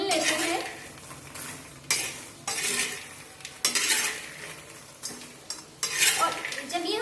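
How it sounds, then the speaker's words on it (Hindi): A metal spoon scrapes and clinks against a pan, stirring dry fruits as they roast over a low flame, in close, repeated strokes with a soft sizzle underneath and no talking. "तो चलिए हम धीमी आंच में हम इसको भून लेते हैं।"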